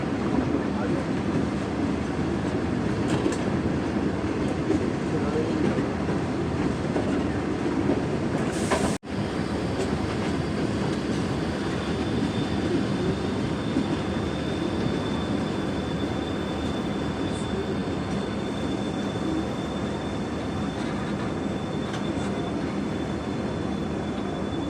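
A Pakistan Railways Business Express train slows toward a dead stop at a small station on a foggy day, its steady rumble and rolling noise continuous and close, with one brief sharp clunk partway through.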